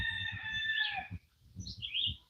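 A turkey on a hobby farm gives a fairly faint, high, wavering call that breaks into shorter chirping notes, over low repeated thumping noises close by. No one talks.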